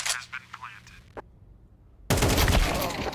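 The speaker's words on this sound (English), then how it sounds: "Took down Spinks, wants the AK" Gunfire in Counter-Strike 2 during a pro match: a busy stretch of clipped in-game shots and effects, a lull, then a sudden loud dense burst of noisy firing that holds to the end.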